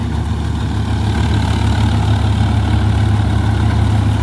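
A tractor engine runs steadily for a straw-making machine during the straw season, a loud, close, low diesel rumble that holds an even drone throughout.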